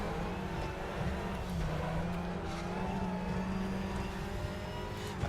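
A TCR touring race car in a racing video game holds a steady, droning engine note that shifts slightly in pitch as it runs on, moderately loud and alone with no talking.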